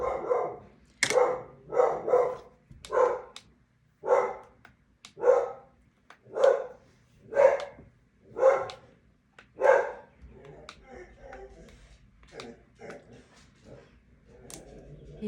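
A dog out in the street barks repeatedly in a steady run of about a dozen loud, sharp barks, then goes quieter while a voice talks faintly in the room.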